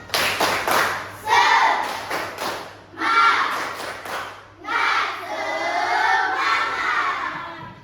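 Classroom of students in a Christian religious education lesson doing a rhythmic clapping chant, loud bursts of group claps and thumps in patterned runs mixed with children's shouted chanting voices.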